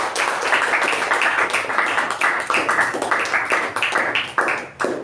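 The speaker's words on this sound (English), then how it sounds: "Let's give him a special round of applause." Applause from an audience at a meeting, steady dense clapping from many hands, moderately close and sustained for several seconds with no talk over it.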